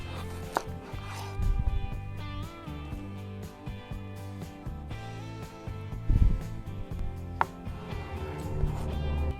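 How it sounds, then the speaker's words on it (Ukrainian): A knife cuts partly frozen sea fish for marinating, giving a few distinct close chopping knocks on a board under steady background music, with no talk. "швиденько нарізаємо і маринуємо рибку"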